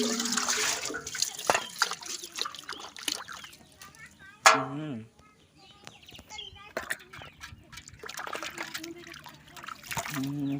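Water trickles and splashes as a face is washed, in uneven bursts with a short pause midway, under people talking and a faint chicken call.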